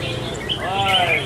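A red-whiskered bulbul at a bird singing contest gives brief, bright whistled chirps, partly masked by a man announcing over a loudspeaker.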